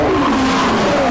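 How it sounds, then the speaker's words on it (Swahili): A car engine revs and accelerates loudly and steadily, with its pitch climbing smoothly over a second; no voices. "Hilux inanguruma."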